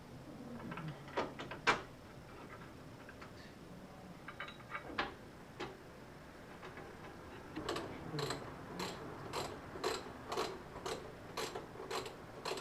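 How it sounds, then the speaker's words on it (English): Ratchet wrench driving the original 13 mm bolts on a Jeep JK Wrangler tire carrier: scattered clicks and clanks at first, then a steady run of sharp, close ratcheting clicks in even rhythm. "We're going to reuse the original bolts, 4 of them. It's going to be the 13 millimeters."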